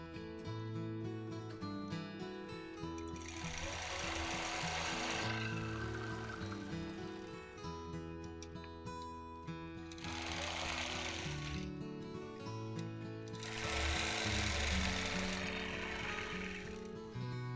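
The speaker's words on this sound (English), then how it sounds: "now I've got to pay attention again so I'm sure to quilt in the right places" A sewing machine quilts a crosshatch pattern with ruler work, running in three long bursts of fast, even stitching separated by brief pauses, fairly close and clear.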